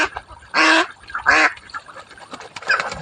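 Ducks bathing in water quack loudly at close range, with two strong calls followed by softer scattered quacks and splashing movement.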